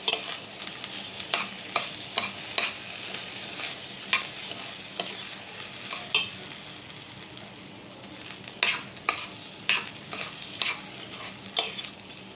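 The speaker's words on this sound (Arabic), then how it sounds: "ناخد منه بقى ونحط في الزيت نشوحه شويه كده عشان يفلفل يبقى حلو." Washed rice sautéed in hot oil sizzles steadily while a spoon scrapes and taps the pot in irregular bursts, the stirring clicks clustering near the start and again toward the end.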